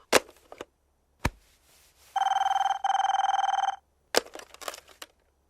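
An old-style telephone bell in a Telugu film scene rings in two rapid trilling bursts, close and loud, between sharp clicks and thuds, with no talk during the ring.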